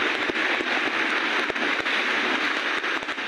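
Dense, steady downpour of heavy rain during flooding in Quezon Province, drumming on surfaces, loud and continuous, with occasional heavier drops spattering close by.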